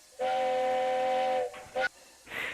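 A steam-style train whistle in the Roblox railway game Rails of Unionville sounds one long, loud, steady chord-like blast, followed by two short fainter toots and a breathy hiss.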